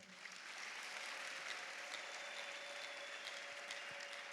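Continuous applause from a church congregation at ADEPR, a dense, even wash of many hands clapping at moderate distance with a faint sustained tone running through it.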